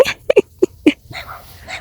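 A dog barks in a quick burst of short, sharp yaps, several in close succession and fairly near, during a morning outdoors abroad, with faint background noise between the barks.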